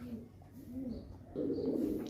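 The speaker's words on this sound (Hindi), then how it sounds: "सबसे पहले ये वाला बेबी पिजन दिखाते हैं।" Soft cooing from a baby slate-coloured pigeon, low and close, repeated in short murmuring phrases that grow a little fuller toward the end, with faint background noise and no talk.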